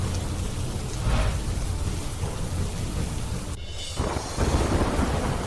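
Tutla Bhavani waterfall in the Sasaram hills, swollen after heavy rain, pours with a steady, loud, broadband roar that runs unbroken throughout, with a brief dip and surge near the end and no voices.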